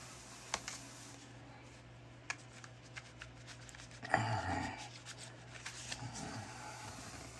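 A deck of tarot cards is shuffled by hand, faint close-up taps and ticks building to a brief rustling burst of riffled cards in an otherwise quiet room.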